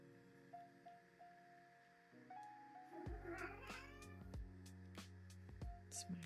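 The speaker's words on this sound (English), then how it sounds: "It's my neglected cat." A house cat meows repeatedly up close, several drawn-out rising and falling calls over a faint steady hum, with no talking.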